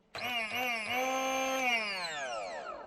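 A 600-watt electric kitchen multi-tool with interchangeable attachments whirring, a sharp start then a high motor whine that steadies before winding down as it slows.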